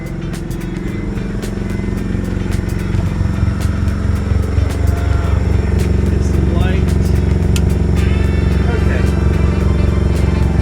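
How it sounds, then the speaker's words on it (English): A generator runs aboard a sailing boat, heard in the aft cabin as a loud, steady low engine drone with faint clatter throughout. "Again, the generator's running here"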